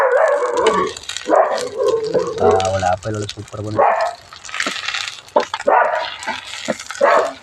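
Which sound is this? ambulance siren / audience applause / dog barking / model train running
dog barking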